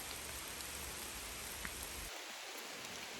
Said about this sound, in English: And here came the rain.